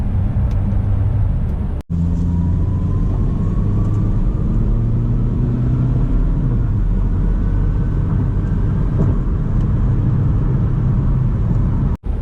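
A 2018 Chevy Cruze diesel accelerating, heard from inside as a steady low engine rumble and road noise that holds a constant drone, with faint rising tones as it pulls forward; no talking.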